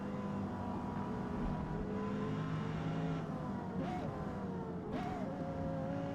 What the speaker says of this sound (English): Having a turbo car that makes all kinds of noises is, that's a lot of fun.